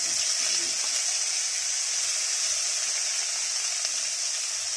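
Bay leaf, ginger, garlic, onion and cumin fry in hot oil for a Bengali cauliflower dalna, giving a steady, close, even sizzle that holds unbroken throughout with no talking.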